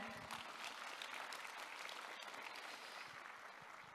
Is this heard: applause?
yes